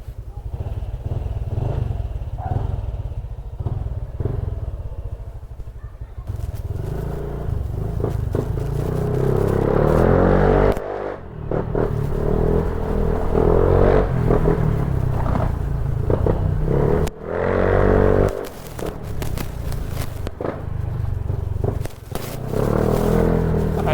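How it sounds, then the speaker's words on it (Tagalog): Motorcycle with a newly installed aftermarket exhaust pipe, heard up close as a loud, throaty engine rumble with repeated revving surges and brief dips between blips. "testing natin itong ating kinabit na pipe"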